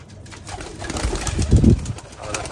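Domestic pigeons in a breeder's loft coo in low, throaty bursts close by, the calls swelling strongest near the middle of the stretch, with light background noise and no talking.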